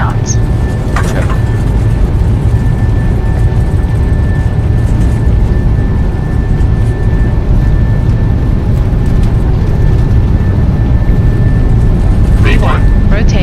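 Boeing 737-800 engines spooling at takeoff thrust in Microsoft Flight Simulator 2024, a steady loud broadband roar with a faint whine throughout, brief clicks near the start and end, under cockpit callouts.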